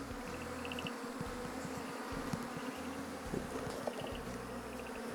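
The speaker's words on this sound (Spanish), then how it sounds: "la mayor parte de abejas está ya en el portanúcleo." Wild honeybees buzz in a dense, continuous drone, close and fairly soft, with individual bees whining past now and then, most gathered in a nucleus hive box.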